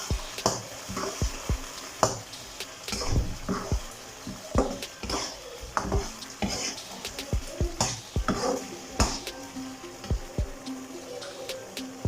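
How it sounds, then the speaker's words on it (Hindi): Onion and capsicum with white vinegar frying in a pan, a crackling sizzle broken by frequent sharp splatters and spatula scrapes and knocks against the pan, irregular and close. "ये बहुत छींटे उड़ा रहा है।"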